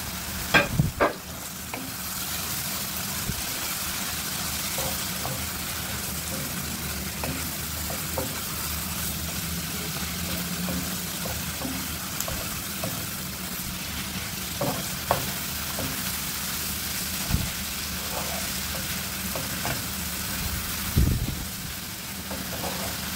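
Tinapa smoked fish fries with string bean seeds in a pan, a steady soft sizzle carrying through the whole stretch, with occasional scrapes and clacks of stirring and no talking.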